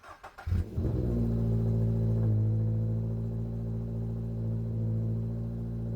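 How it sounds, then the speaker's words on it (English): A car engine cranks and catches, revs briefly, then settles into a steady, low, close idle hum that continues alone without talk. "go ahead and start the car and just let it idle for a while"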